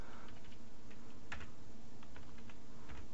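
Computer keyboard typing during a C++ programming lecture, a steady run of soft, quick key clicks close by, with no one talking.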